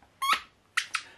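Squeaky rope dog toy squeezed three times, a single longer high squeak followed after a pause by two short ones, close and clear with no talking.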